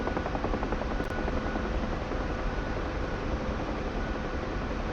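A Huey helicopter in the DCS flight simulator gives a steady, loud broadband rotor and engine roar that holds constant and close throughout, with no talk over it.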